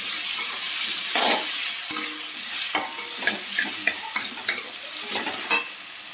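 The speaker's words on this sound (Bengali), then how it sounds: "আমি এখন এই আলুগুলোকে হালকা লাল করে ভেজে নেব" Potato pieces sizzle steadily in hot oil with turmeric in a pan, with a continuous frying hiss punctuated by sharp, close scrapes and taps of a spatula stirring them, and no talk.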